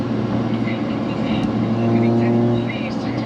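Pontiac Vibe GT with a custom stainless exhaust driving, a steady low engine drone with a slight rise midway, inside the car, with a voice talking over it.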